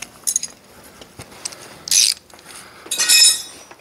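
A ratchet wrench tightens the jam nut on the yoke adjuster of a Brunswick A2 bowling pinsetter gearbox, heard as three short bursts of rapid clicking with quiet gaps between them.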